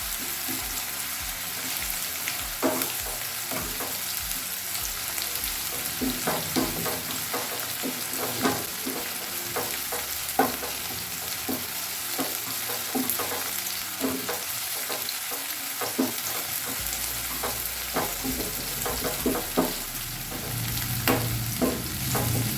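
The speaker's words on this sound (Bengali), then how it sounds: "পেঁয়াজগুলো হালকা ব্রাউন কালার করে নেব, বেশি ভাজলে হবে না।" Onions frying in a pan until light brown, a steady sizzle broken by scattered stirring scrapes and clicks, with no one speaking.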